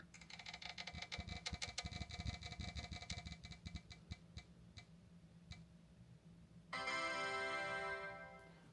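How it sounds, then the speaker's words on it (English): A prize wheel spun by hand gives rapid ticking that slows into separate clicks, then stops. A sustained tone follows at the end, with no voices. "let's spin the wheel and see what we're going to replace that with"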